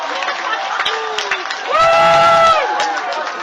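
A football stadium crowd in a Canadian university game, Waterloo Warriors at Windsor Lancers, roars and cheers after a safety, the cheering swelling loudly for about a second under a commentator's ongoing talk.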